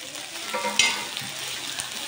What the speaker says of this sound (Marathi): आता आपण त्यात हा टोमॅटो पण टाकून घेऊ।